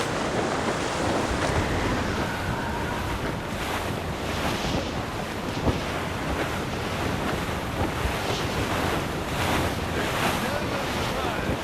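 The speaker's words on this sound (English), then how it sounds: "Wind's getting vicious." Strong wind blowing across the open sea in Assassin's Creed Rogue, a steady roaring gust over surf and waves that stays loud and dense throughout, with faint voices barely present underneath.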